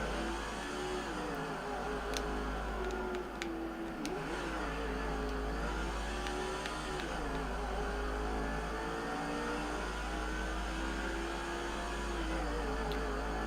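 Race car engines in the NASCAR 05 video game on the Phoenix road course drone steadily with wavering pitch as cars accelerate and brake, a continuous loud mechanical hum with a deep low rumble and no talk.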